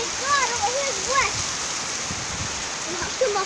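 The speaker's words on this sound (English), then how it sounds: "So we're just going to show you how outside of our house is. Yeah, it's raining." Rain falls steadily outside a house, a constant broadband hiss throughout, with voices talking over it and a faint whistling, warbling tone in the first second.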